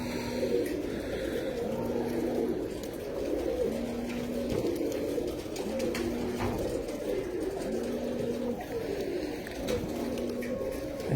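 Steady, rhythmic pigeon cooing repeats every couple of seconds over a dense, noisy background of chatter and ambient hum.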